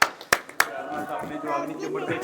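A few sharp claps sound at the start, three quick bursts close together, and then voices take over and continue to the end.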